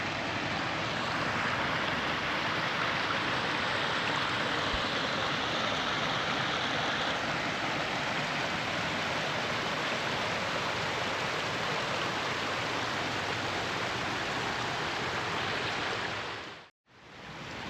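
A 60-foot pondless waterfall with lots of white water roars steadily and loud, a dense continuous rush close by, with no voices, until it cuts out abruptly near the end.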